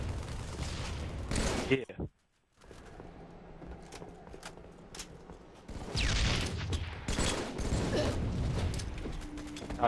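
Halo 3 multiplayer gunfire, bursts of rapid shots and mechanical weapon sounds with a brief silent gap, mixed under a player's occasional speech.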